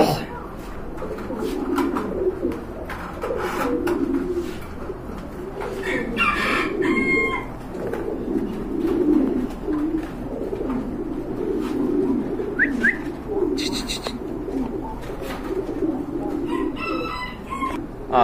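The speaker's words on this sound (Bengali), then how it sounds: "অনেক ভালো সাইজের কবুতর" Pigeons at a bustling pigeon market call repeatedly, with cooing and rooster-like crowing bursts over steady crowd murmur and background chatter throughout.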